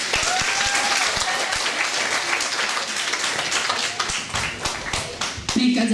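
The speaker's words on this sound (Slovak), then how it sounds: "Poprosím potlesk." An audience at a Mother's Day school performance claps steadily, a dense patter of hands that thins toward the end, with a few voices mixed in.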